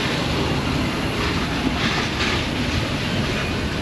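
An old Ford Transit box truck engine, suspected of a fuel pump fault, runs rough at idle, producing a steady, loud, close mechanical rumble and roar throughout with no voices.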